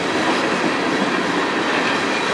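A train rolls steadily past at close range in Sarnia, Ontario, a dense, continuous roar of wagons with faint clickety-clack from the wheels.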